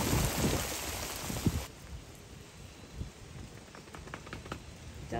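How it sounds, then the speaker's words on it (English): Steady rain falls and patters on surfaces outdoors, loud at first and then softer and more even, with scattered close drips and taps. "Moses, it is raining."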